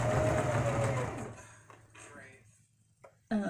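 Sewing machine stitching a collar on, a close steady whirring run for about a second that then stops, followed by quieter handling sounds and a brief voice near the end.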